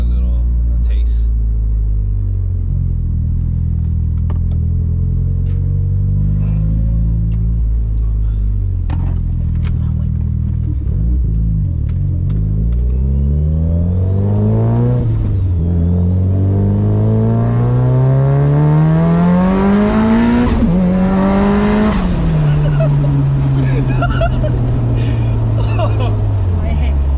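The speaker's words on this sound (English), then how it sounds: "Second gear pull first, and then we'll start with the first gear after that" A 535whp Mitsubishi Evo 8 accelerates hard through gear pulls. Its loud engine climbs steeply in pitch with clear shifts and sustained roaring revs heard from inside the car.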